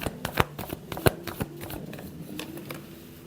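Tarot cards shuffled by hand in a run of crisp riffling flicks and soft slaps, close and clear, loudest in the first second and a half before settling into a steady fainter patter.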